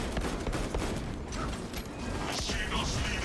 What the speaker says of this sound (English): Reloading weapon!